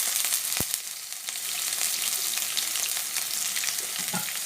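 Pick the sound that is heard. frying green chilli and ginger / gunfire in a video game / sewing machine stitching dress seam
frying green chilli and ginger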